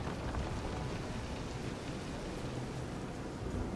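Heavy rain and storm noise at sea in the Visions of Mana video game, a steady, dense broadband wash that holds at a constant loud level throughout, with no talk over it.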